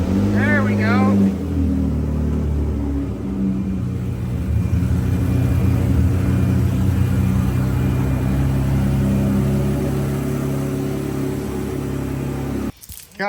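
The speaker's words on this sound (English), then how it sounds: "I love the way these V12 start" A Ferrari 599 V12 cranks and catches, then settles into a loud, steady, throaty idle that holds close for over ten seconds, with a voice briefly at the start.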